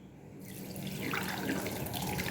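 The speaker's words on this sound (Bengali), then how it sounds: "ছানাটা এবার ছেঁকে নেব।" Whey drains from chhena (paneer) curds through a strainer, a steady close splashing pour of liquid that starts abruptly and keeps running, with no speech.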